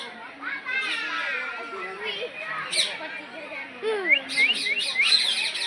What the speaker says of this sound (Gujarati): ઓહો રંગબેરંગી પોપટ